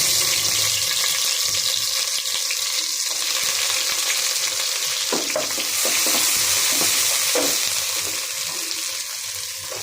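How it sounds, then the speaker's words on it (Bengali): Onions added to hot oil in a pot, a steady close sizzle with intermittent stirring clatter and scrapes running throughout, no voices. "এখন তেলটা গরম হয়ে গেছে, পেঁয়াজ দিয়ে দিলাম"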